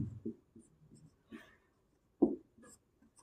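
Writing strokes during a Hindi psychology lesson on reflex actions: a handful of short, irregular scratches, close and quiet, with one firmer stroke partway through and no talking.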